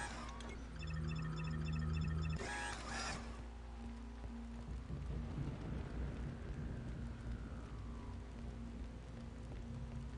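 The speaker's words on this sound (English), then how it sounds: "Explains why it's raining" Rain and rolling thunder in the Star Wars: Republic Commando game at the Kachirho bridge, steady rainfall beneath a low rumbling storm, with electronic beeping and a sharp burst early on before the rain settles.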